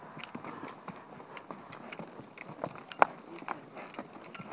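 The new shoes of a ridden horse clip-clop in a steady walking rhythm up a hill, close and moderately loud. Someone speaks softly over the hoofbeats.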